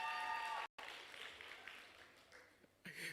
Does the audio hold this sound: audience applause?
yes